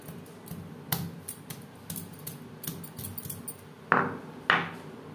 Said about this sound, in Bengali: এভাবে একটু নোড়ার সাহায্যে থেতো করে নেব